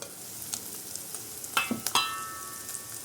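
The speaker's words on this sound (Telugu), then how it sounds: "ముక్కలు కూడా ఫ్రై అయిపోయాయి అన్నమాట" Pieces for paneer butter masala fry in a kadai, a faint steady sizzle broken by a few sharp clinks and scrapes as they are stirred.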